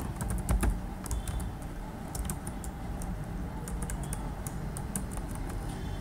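Rapid typing on a computer keyboard while writing Python code, with quick, close key clicks in uneven bursts over a low steady background hum.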